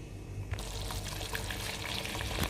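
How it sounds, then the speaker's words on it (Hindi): Spices for a chickpea curry (turmeric, red chilli, garam masala, black salt) being fried and stirred in a pot, giving a steady bright crackle and rustle with a sharp scrape near the start and another near the end. "अभी मसालों को अच्छे से भूनना है।"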